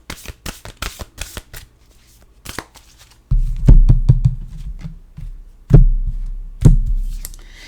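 Oracle cards are shuffled by hand at close range, first in quick light riffles, then in heavier thumping bursts as the deck is handled, with no talk.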